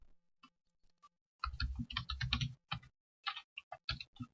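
Code is typed on a computer keyboard in quick bursts of close, crisp keystrokes: a few scattered taps, then a dense run, a pause, and another fast flurry.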